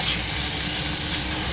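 Chanterelle mushrooms cook gently in butter in a pan, giving a steady, close, continuous sizzle and hiss with no pauses and no voices.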